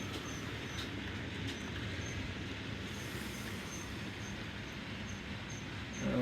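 OO gauge Class 66 model locomotive trundling around a model railway layout, a faint continuous rolling rumble of wheels on track with no talking.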